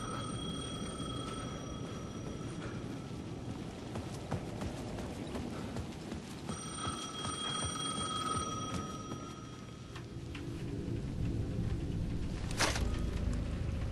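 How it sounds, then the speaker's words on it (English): A payphone bell in the video game Alan Wake rings intermittently over a dense, noisy background of clatter and rumble, moderately faint. "The payphone at the edge of the plaza was ringing again."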